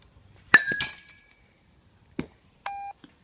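A hybrid bat with a composite handle and aluminum barrel strikes a ball into a net, giving one sharp metallic ping with a ringing tail, followed by a short electronic beep from a speed sensor.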